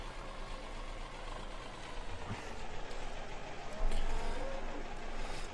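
A new tractor engine in Farming Simulator 17 runs at a steady mid-pitched drone, rising slightly in intensity toward the end as if accelerating, continuous and fairly close, with no talk.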